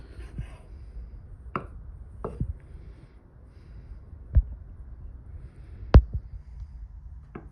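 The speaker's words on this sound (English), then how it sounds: "Point being is to keep continuously cutting it up and slicing the meat into thinner and thinner pieces" Knife chopping meat on a board while making sausage at a hearth, a handful of separate sharp cuts spaced irregularly over a quiet background, with one louder chop near the end.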